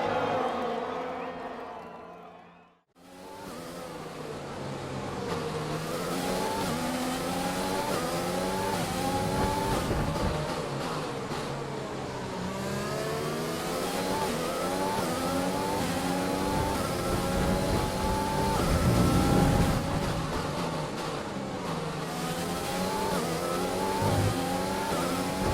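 An F1 2020 race car in the video game roars as it accelerates down the back straight at the Brazil round, its engine note climbing through repeated gear changes, loud and continuous after a brief silence near the start.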